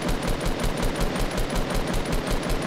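Automatic gunfire in Fortnite rattles out in a steady, rapid rhythm of evenly spaced shots, moderately loud and continuous with no voices.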